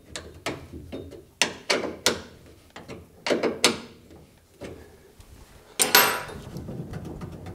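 Tightening the steering column on a Porsche 964 produces a series of close metallic clicks, clanks and ratcheting knocks at an irregular rhythm, loud and without talk.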